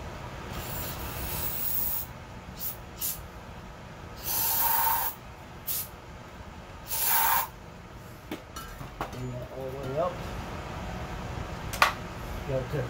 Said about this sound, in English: Probably should spray some brake cleaner or something in this cylinder to dry it out.